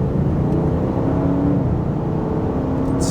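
Close, loud engine rumble of a 2022 Audi RS6 Avant rising slightly in pitch as it pulls, a steady throaty drone with no talking.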